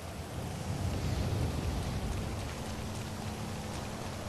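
Steady rain falls in the video game GTA V, a dense even hiss with no clear individual drops, holding at moderate level throughout with no voices.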